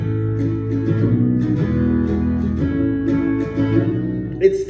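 An acoustic guitar in open D tuning is strummed through ringing, sustained chord changes at a steady moderate volume with no voice.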